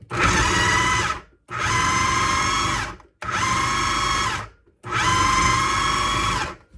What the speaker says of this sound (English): Then you just put it in the food processor and pulse it.